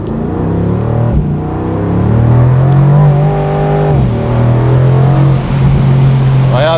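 Mercedes-AMG with a 585 hp bi-turbo V8 pulling hard in acceleration, a loud deep engine note climbing through the revs, dipping briefly at a shift, then continuing close by.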